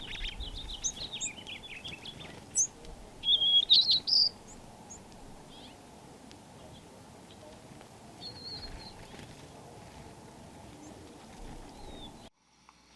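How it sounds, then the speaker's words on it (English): Small birds chirp and tweet in short bursts around backyard feeders, with a faint steady hum of outdoor ambience under them. "Oh, the bird gangs are coming into my feeders."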